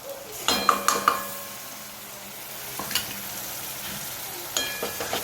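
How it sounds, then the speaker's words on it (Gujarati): Yogurt stirred into frying garlic and green onion in a pan, a spoon clinking against the metal several times over a soft steady sizzle, with a few louder scrapes near the end. "તેના અંદર આપણે નાખી દઈએ દહીં."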